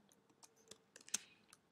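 Quiet, sparse keystrokes as HTML tags are typed on a computer keyboard, a scattering of soft clicks with one or two sharper taps and uneven pauses between them.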